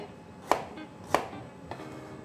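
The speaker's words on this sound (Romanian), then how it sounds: "Vom face pireul de păstârnac. Îl vom tăia bucăți micuțe." A knife chops parsnip into small pieces on a cutting board, giving two crisp close knocks and a fainter third.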